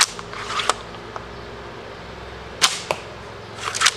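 A pump-action crossbow fires arrows at an archery target: a sharp twang and thwack near the start, then two more crisp shots later, each a short, bright snap over a quiet outdoor background with no talking.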